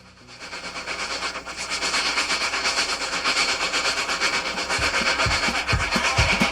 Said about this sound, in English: Hear the train roaring down the track.